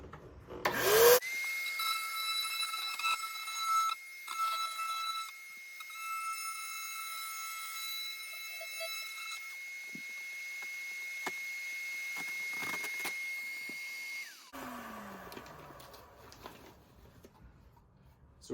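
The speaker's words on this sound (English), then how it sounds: "I'm gonna go ahead and just cut up that panel and then start coming across" An oscillating multi-tool cuts into a mobile home wall panel with a steady high buzzing whine that runs for about thirteen seconds, with short bursts before and after, close and without speech.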